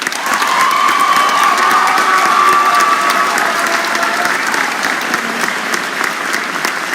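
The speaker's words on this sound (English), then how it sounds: "would you please join me in a round of applause to Mrs." Sustained audience applause with cheering fills a high school graduation ceremony for the class of 2021, a dense steady roar of clapping hands and scattered shouts that holds loud throughout.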